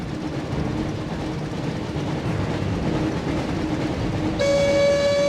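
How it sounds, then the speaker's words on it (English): The Hogwarts Express rumbles past in the PS1 game Harry Potter and the Chamber of Secrets, a steady rolling rail clatter that ends with a loud, sustained train horn blast. "Looks like we found the train, Ron."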